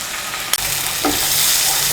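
A paste of ground mustard, poppy seed and green chili mixed with a little water sizzles and bubbles steadily in a pan for a Bengali bitter gourd jhal, with a brief scrape near the start.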